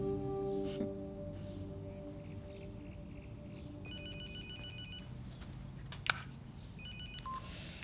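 Telephone ringtone sounding in a quiet room before a call is answered, with two bursts of bright trilling electronic rings a few seconds apart over faint background hum and no talk.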